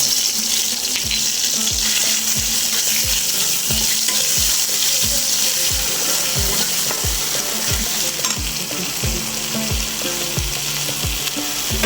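Ginger-cumin paste frying in a pan for a paneer dish, a loud, continuous bubbling sizzle with a regular low thumping beneath it throughout, close up and uninterrupted.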